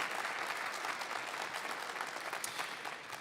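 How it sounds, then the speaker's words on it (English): Steady applause from a crowd at a live election debate for Sydney-Glace Bay candidates, a dense continuous wash of clapping at even volume throughout. "So a round of applause for all your candidates in Sydney-Glace Bay here tonight"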